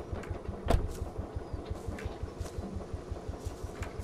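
Tractor engine idling in the game Greyhill Incident, a steady low rhythmic chugging throughout, with a brief louder thump near the start.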